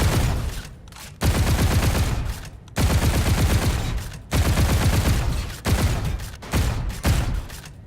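Call of Duty Infinite Warfare gunfire played on a modded controller: loud, dense bursts of automatic fire in several long strings, each cut by a brief quiet gap as the weapon reloads.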